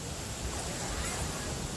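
Steady, rushing wind noise buffets the microphone throughout, a continuous low roar with no pauses.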